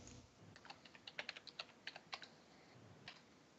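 Fingers tap on a computer keyboard in quick, uneven bursts of clicks, faint and close, with a short pause before a final few keystrokes and no one talking.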